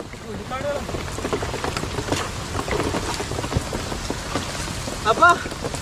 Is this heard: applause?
no